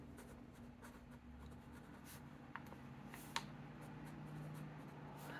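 A fountain pen with a medium titanium nib scratches softly across paper, a faint continuous rasp with a couple of small ticks, heard close over a low background hum.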